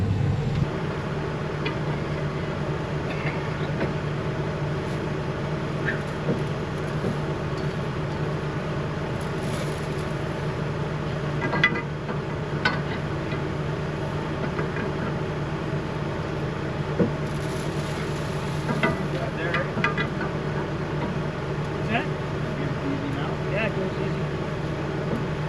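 A combine harvester engine runs steadily at close range, a continuous low drone with its header plugged with peas, and faint voices occasionally under the hum.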